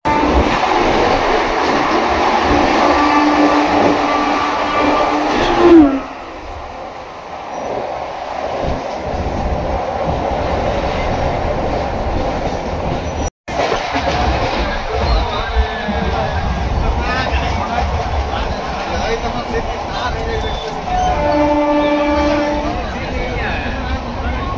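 A train stands at Purulia station, its low rumble and rail noise filling the platform, while voices talk nearby and a sharp clunk cuts through midway.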